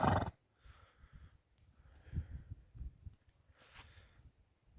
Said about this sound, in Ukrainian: Ось такі коні.